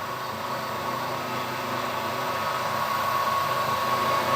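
A 10 mm drill cuts into aluminium jig plate being made into a welding fixture plate, giving a steady, continuous whirring hum with a faint high whine, loud and unbroken throughout with no talk.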